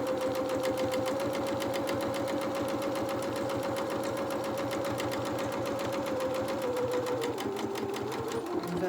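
A sewing machine stitches fabric with a fast, even mechanical whir and a steady needle rhythm that holds loud and close throughout, with no pauses.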